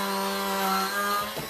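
A Pampered Chef Flex+ Multi-Prep kitchen power tool motor runs with a steady, fairly loud electric whine for over a second, then winds down near the end.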